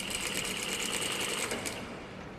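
A sewing machine stitches fabric for elastic-waist pants, a rapid close mechanical whirring and ticking that runs steadily and then slows and fades at the end.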